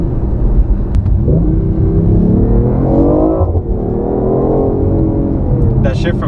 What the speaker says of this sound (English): That shift from first to second sounds really nice